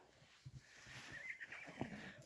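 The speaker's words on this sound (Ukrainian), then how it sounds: "Чекаємо основний состав наших кобил з поля." Mares coming back from the field on a horse farm in the evening, with a faint distant whinny rising and falling amid soft hoof clops and quiet background noise, no talking.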